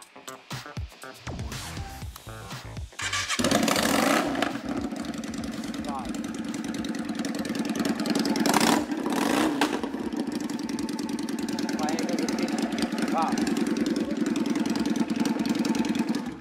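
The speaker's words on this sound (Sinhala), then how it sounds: "සයිලන්සර් දෙකක් ස්ට්‍රේට් පයි දෙකක් තියෙන මේක ස්ටාර්ට් කරාම තේරෙයි මේකේ සවුන්ඩ්." A Yamaha Dragstar 400 Classic motorcycle with twin straight-pipe silencers clatters as it starts, then settles into a loud, throaty idle with a sharp rev midway, heard close up with a voice speaking early on.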